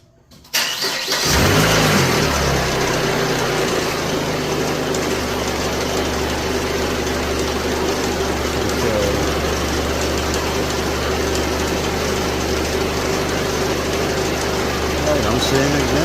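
A 2004 Chrysler PT Cruiser with the 2.4-liter engine cranks and catches, then runs at a loud, steady idle with a constant low drone close to the microphone.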